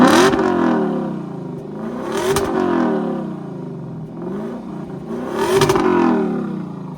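A Lexus LC 500 engine revs repeatedly while driving, loud and close, climbing and falling in pitch through several surges with no talking.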